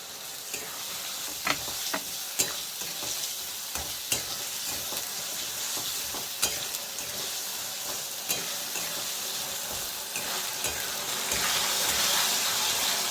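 Chopped tomatoes going into a hot pan for a fish-head and taro curry, a soft sizzle of frying under repeated scraping strokes of a spoon stirring, fairly close and quiet.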